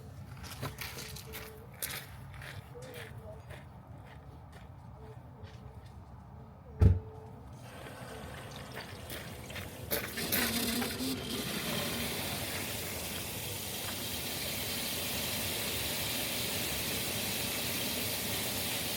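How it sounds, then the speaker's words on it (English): Water rushes through an RV faucet water filter and drains from the bottom. A steady, close hiss builds partway through and holds to the end, after quieter clatter and one sharp knock. "I do have the water running, dumping it from the bottom just to run it through the filter for about a minute"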